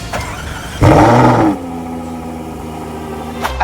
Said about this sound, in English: And he brings this kid in and lets him start the engine.